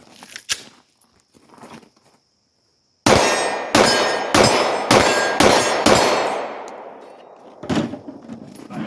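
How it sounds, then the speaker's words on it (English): A Sig M17 pistol fires rapidly in two hands at 18 yards: six loud, close shots in quick, even succession, then one more after a brief pause, with faint clicks beforehand. "we're going to do two-handed shooting now in my strong hand. Just going as fast as I can"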